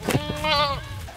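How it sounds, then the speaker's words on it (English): A large Kiko meat goat bleats once, a loud, close, wavering cry about half a second long. A brief voice or rustle comes just before it. "Now this is a big goat breed"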